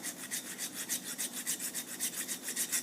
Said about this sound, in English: And sharpen that up a little bit.